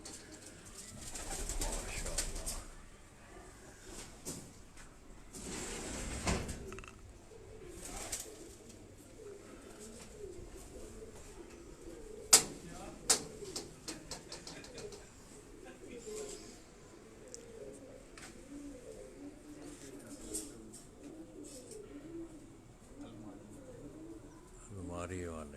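Topi breed pigeons coo on a rooftop loft in Rawalpindi, soft repeated coos running under people talking close by, with a few sharp knocks and bursts of handling noise.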